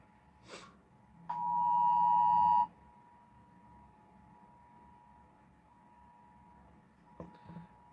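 An electronic alarm goes off during a history class, a steady high tone that sounds loudly for about a second and then lingers faintly in the background, with short breathy noises around it.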